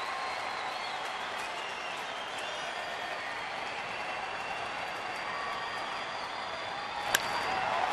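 A crowd at a Dodgers versus Astros baseball game in Houston, 2011, keeps up a steady, distant roar of cheering and applause, a continuous wash of noise from the stands with no clear speech.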